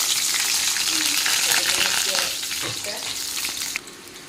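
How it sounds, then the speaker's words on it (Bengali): Sliced onion and green chillies frying in hot oil, a dense bright sizzle close up with a few soft stirring sounds, easing slightly toward the end. "এখন দিয়ে দিই পেঁয়াজ আর কাঁচা লঙ্কা চিরা।"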